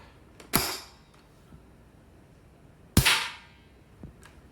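Two sharp gunshots from a Marlin 795 rifle fired into a plywood board, about two and a half seconds apart, each a loud crack with a short decay, followed by a fainter thump.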